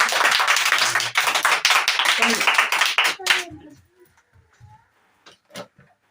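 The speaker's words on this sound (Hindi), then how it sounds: "इनके लिए भी जोरदार ताली।" Loud, close clapping from a class group for a student during a Children's Day test, lasting about three seconds before breaking off into quiet with a few scattered soft taps and a voice speaking.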